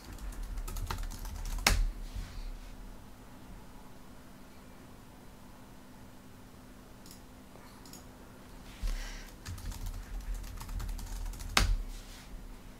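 Someone types a password on a computer keyboard in short clustered bursts of soft clicks, with a quiet pause in the middle. The typing is close and fairly faint over a steady background hum.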